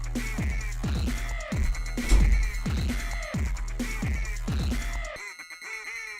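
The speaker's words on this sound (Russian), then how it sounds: "Ты сейчас крякала." Several loud, repeated cartoonish quacks from a video game duck, coming in a steady rhythm of about five calls over a busy game soundtrack, then stopping abruptly with quieter game sounds afterward.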